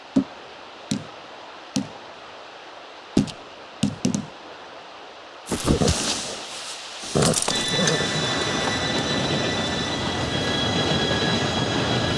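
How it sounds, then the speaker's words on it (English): A train pulls in within the game Red Dead Redemption 2: a few sharp isolated clanks ring out over quiet ambience, then the heavy rolling rumble of wheels and cars swells in and holds, with high metallic squeals layered on top as it arrives. "Train should be here any minute now."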